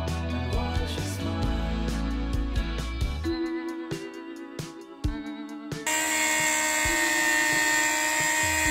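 A Dremel rotary tool whines at high speed while cutting a tile backsplash around outlets, with its pitch dipping and rising under load, interrupted by short gaps, then a steadier grinding hiss.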